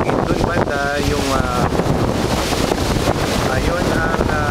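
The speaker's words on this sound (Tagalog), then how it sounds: "mahangin ngayon" Strong wind on a seaside beach at Bacolod buffets loudly and steadily with a roaring rush, while a voice briefly speaks beneath it.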